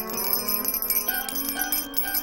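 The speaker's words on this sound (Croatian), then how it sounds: "Majmunice Marta, prestani zvoniti moju glavu" A bell rings over and over in a cartoon listening game, loud and close, its bright chiming strokes overlapping into a busy, sustained jangle with no talking.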